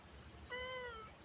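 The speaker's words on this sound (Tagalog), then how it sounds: "At saka itong pusa namin" A single pet cat gives one drawn-out meow midway, close but fairly quiet, over a soft rural backyard background with no talking.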